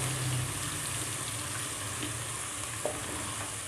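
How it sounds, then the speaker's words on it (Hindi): Chopped vegetable masala with cinnamon sizzles steadily in oil in a pan over a medium flame for chicken white karahi. It is a soft, even hiss throughout, with one small clink near the end. "मीडियम फ्लेम पर आपने इसको पकाना और इसको हल्का सा भून लेना है।"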